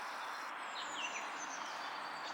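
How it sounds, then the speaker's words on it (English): A blackbird sings somewhere in the countryside, a few faint, distant whistled phrases over a soft, steady outdoor background. "I can hear a blackbird, I think."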